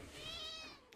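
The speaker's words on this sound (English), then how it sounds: "Why are you meowing at me?" A single close cat meow, drawn out and tonal, lasting most of a second and fading at the end, heard alone during L.A. Noire gameplay.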